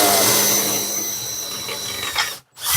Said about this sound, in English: going to drill a couple of holes in this